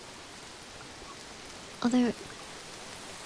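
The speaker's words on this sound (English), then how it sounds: "The rain and the water." Rain pattering on water in a video game, a soft steady hiss of drops throughout, briefly overlapped by a short spoken word near the middle.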